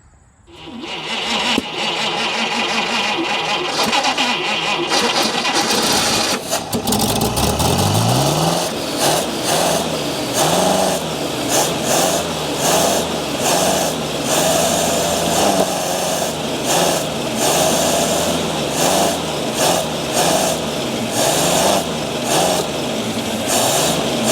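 Chopped 1950 Buick engine cranks and catches, then runs loudly with an uneven, lumpy idle and occasional revs, close and continuous with no talking.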